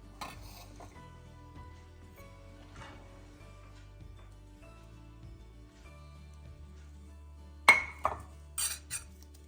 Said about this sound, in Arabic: غادا نزيد عليه هاد الزبده ونرجع معكم ونبقى نحرك فيه